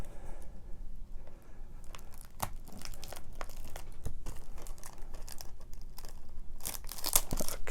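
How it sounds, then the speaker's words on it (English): Scissors cut through the plastic packaging of a Blu-ray disc with a series of close crinkling and tearing snips and rustles, fairly quiet and with no talking. "grab my trusty scissors here and just kind of give it a little slice."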